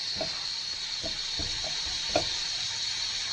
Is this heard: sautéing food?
yes